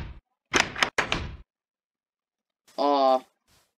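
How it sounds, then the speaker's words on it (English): Minecraft door in the video game, two quick wooden clacks of it opening and closing, followed by a short buzzy tone, close and distinct with silence between. "I cannot get over that door sound."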